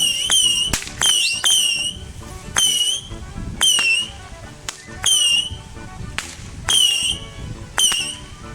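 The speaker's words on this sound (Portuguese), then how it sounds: "Vamos ver a reação da bomba bujão agora ali, qual vai ser." Bomba bujão firecrackers at a São João festival, a rapid series of about a dozen sharp, loud cracks and pops with whistling tails, spaced irregularly across the clip.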